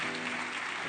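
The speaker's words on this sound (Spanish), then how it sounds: "denle un fuerte aplauso al Rey por eso" A church congregation bursts into applause during a sermon, a brief, dense wash of clapping at steady moderate volume, with no distinct individual claps standing out.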